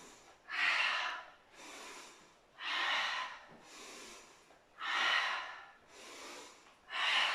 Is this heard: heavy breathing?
yes